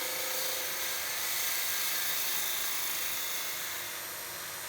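A 3/4-inch skew chisel cuts spindle work on a wood lathe, producing a continuous hissing, whining drone from the spinning timber that stays loud and steady throughout, easing slightly at the end.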